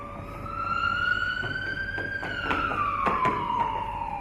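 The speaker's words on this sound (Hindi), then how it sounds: "यहाँ तो और सायरन बजने लगा प्रभु" A siren wails with a slowly rising then falling tone, loud and steady, with scattered knocks and thuds underneath.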